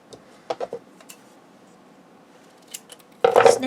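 Scissors snipping paper while cutting a corner for a pop-up easel page: a few quick close cuts early, faint ticks in between, then a louder rustling crunch of handled paper at the end.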